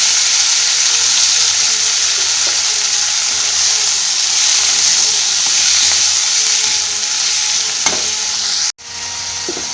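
Spinach sizzles and fries in hot oil with panch phoron and a few garlic cloves, left over from frying fish, giving a loud, close, continuous crackle and hiss with occasional stirring clinks, then a brief sharp break near the end.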